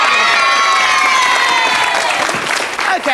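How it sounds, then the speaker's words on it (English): A live studio audience on the 1988 Saturday-morning children's TV show Going Live! applauds and cheers, loud and close, with high excited voices and whoops over the clapping before it tapers off near the end. "Yes, a round of applause, I think."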